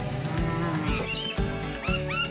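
Black Angus cattle on a cattle property low repeatedly, several long bellowing moos in a row, loud and fairly close, with no voices.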